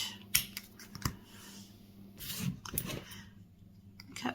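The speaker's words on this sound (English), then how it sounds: "you are going to just cut along this edge" Scissors snip through several layers of yarn wound on a bobbin for a tassel, giving a few soft, close cuts and clicks spread unevenly over quiet handling noise.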